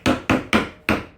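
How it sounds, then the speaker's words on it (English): Five sharp, evenly spaced knocks as a hammer taps a walnut bow tie inlay into a walnut butcher block, each strike loud and close with a brief decaying ring, no voices. "I'm not going to hammer it in all the way yet because I don't have any glue in there."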